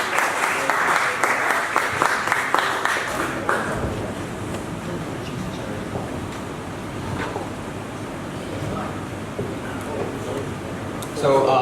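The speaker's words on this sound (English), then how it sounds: "Please give them a round of applause." Applause from an audience at a tech meetup session, clapping strongest at the start and then thinning into a murmuring room with scattered claps.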